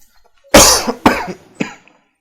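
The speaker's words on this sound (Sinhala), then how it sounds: "පොඩි කැස්සක් තියෙනවා ගණන් ගන්න එපා." A person coughs three times up close in a quiet room, a hard first burst followed by two shorter ones.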